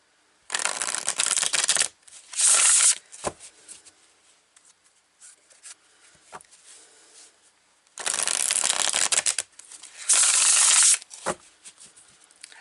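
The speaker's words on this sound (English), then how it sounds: "So let's start pulling some cards." Tarot cards shuffled in two long bursts of riffling and bridging, each followed by softer taps and card handling, fairly close and loud with no talking.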